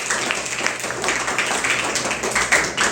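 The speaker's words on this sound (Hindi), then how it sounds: "ताली बजा दीजिए अपने लिए।" Children clap for themselves during a Children's Day session. The applause is continuous and scattered, made of many overlapping hand claps at a steady, fairly loud level.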